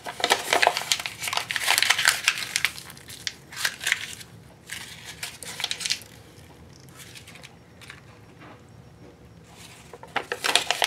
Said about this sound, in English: I'm going to scrunch them up and put them in water.